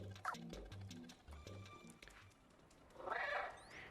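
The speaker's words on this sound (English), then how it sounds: "Why are we meowing in this game?" Short repeated meows from the cat in the video game Stray, several quick calls in a rhythmic run, followed by a softer, airy swell of game ambience.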